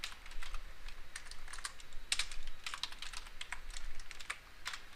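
Fast, uneven typing on a computer keyboard, with quick clusters of key clicks and short pauses, close and fairly quiet, with no talk.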